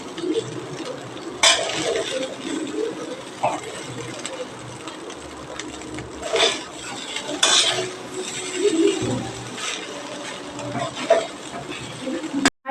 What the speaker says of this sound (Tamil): நல்லா இது மேலே கிளறி விட்டுக்கலாம்